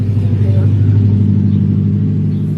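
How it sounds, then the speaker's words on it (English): A loud car drives past close by outside during a reading vlog, a steady low engine rumble that fills the whole moment without fading. "The loudest car or a motorcycle has to go by right as I start."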